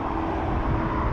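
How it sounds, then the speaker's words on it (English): An Aer Lingus Airbus A330 airliner departs Dublin Airport, a steady broadband jet engine roar, loud and continuous through the brief moment. "Aer Lingus A330 off to San Fran, or San Fran even."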